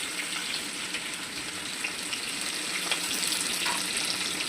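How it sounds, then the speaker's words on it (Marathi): Onions frying in a pan for a home-cooked curry, a steady close hiss of sizzling oil running evenly throughout with no talking. "आता आपल्याला कांदा टमॅटो घालून घेऊ. आधी आपण कांदा घालून घेऊ."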